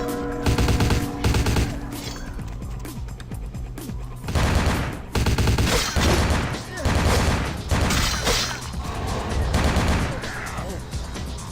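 Pistol gunfire in Vampire the Masquerade Bloodlines: loud, close shots fired in rapid bursts and clusters, with short pauses between volleys across the stretch.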